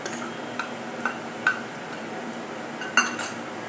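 A spoon mixes gram flour into vada batter in a bowl, giving a few light clinks and taps at irregular intervals over a soft steady background, close and fairly quiet, with no talking.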